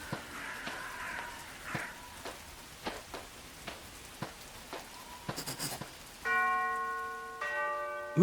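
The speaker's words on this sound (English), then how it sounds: "I'd better ring the bell." A mansion doorbell in the Arkham Horror video game rings out in clear, sustained tones near the end, after a stretch of soft rain-like patter and sparse taps.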